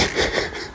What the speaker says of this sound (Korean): 엄마의 코골이를 처음 들은 아기.